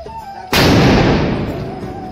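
A single loud Diwali firecracker bursts with a sharp close bang, and a broad crackling roar trails off over the next second and a half.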